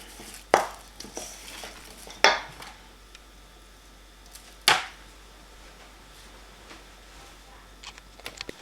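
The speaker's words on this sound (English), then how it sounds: "Add your breadcrumbs. Keep going around, getting it all mixed in." Breadcrumbs being stirred into a harvest loaf mixture in a bowl, giving a few sharp utensil knocks against the bowl spread over quiet, soft mixing in between, no talk.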